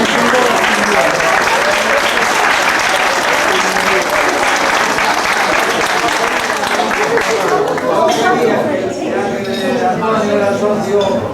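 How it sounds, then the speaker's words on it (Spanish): An audience at a 1993 social club dinner applauds loudly and steadily, a dense wash of clapping close by, with dishes and cutlery clinking and voices chattering as it tapers near the end. "Eso me merece un aplauso y gracias."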